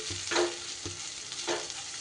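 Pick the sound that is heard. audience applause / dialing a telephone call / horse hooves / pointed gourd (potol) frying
pointed gourd (potol) frying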